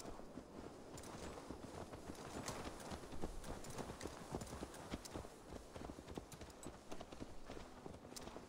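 Horse hooves clip-clop steadily at a walk in Assassin's Creed Valhalla, a continuous rhythmic clatter of fairly close footfalls over a busy game background.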